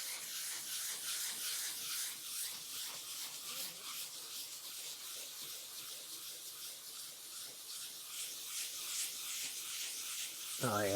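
Close-up wet sanding of an oxidized Land Rover LR3 headlight with 400 grit sandpaper makes a steady, rhythmic scrubbing rasp with a watery hiss, continuing throughout with a sharper knock at the very end.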